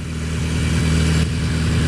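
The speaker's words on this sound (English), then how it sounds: "I'm back on the Yamaha XJ650 Maxim, and it has been a while" Yamaha XJ650 Maxim motorcycle engine running steadily while riding, a close, loud, even drone with a throbbing low pulse and faint mechanical clatter, holding constant throughout with no voices.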